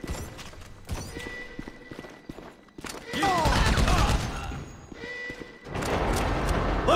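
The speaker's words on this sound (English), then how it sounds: "So I guess we're shooting our way out of here." Gunfire in a shootout from the video game Grand Theft Auto V, bursts of automatic fire and impacts swelling into dense, sustained volleys amid game effects and chatter.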